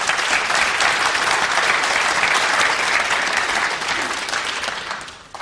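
Sustained applause from a crowd at a World Cup of Pool final between the Philippines and the USA, steady and full for several seconds before tapering off at the end.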